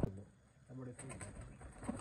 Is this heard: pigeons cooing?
yes